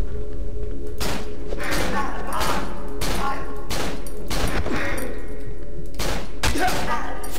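Repeated bursts of gunfire in the horror video game Cry of Fear, loud and close in irregular clusters, with a player's voice talking in between.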